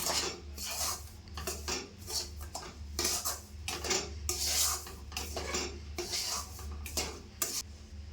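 Metal spoon scraping and clinking around a pan while a green gram laddu mixture is stirred, with close, irregular scrapes and knocks over a faint low hum and no talking.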